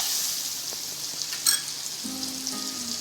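Butter chicken mixed with curd in a hot frying pan sizzles steadily, with a faint scrape of stirring over a continuous close frying hiss.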